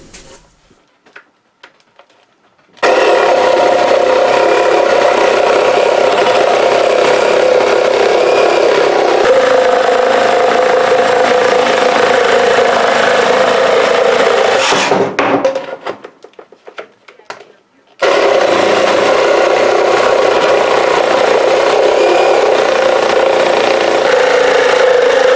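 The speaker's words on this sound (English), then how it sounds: "Let's go ahead and try the sawzall." An old Ryobi reciprocating saw running on a lithium battery cuts through wood, a loud, steady buzzing drone that drops off briefly mid-cut and then resumes, close to the microphone.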